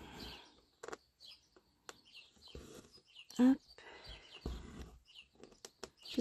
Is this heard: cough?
no